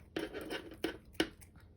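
Quiet scissors snip close by, a few separate crisp cuts with a scraping sound of blades sliding through material between them.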